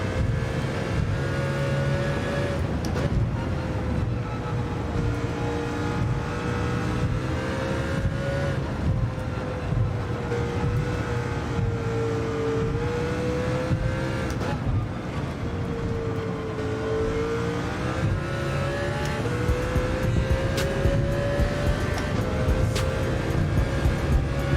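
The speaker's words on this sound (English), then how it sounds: "fan car is coming out. Frank's got the fan car." A fan car in Gran Turismo 7 races with a steady, droning engine whine that rises and falls in pitch as it shifts and accelerates, constant and close for the whole stretch.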